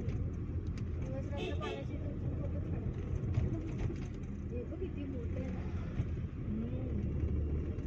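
Road traffic rumbles in a slow jam near a heavily guarded temple area in Srinagar, Kashmir, a steady low engine drone with scattered mechanical sounds and people talking nearby.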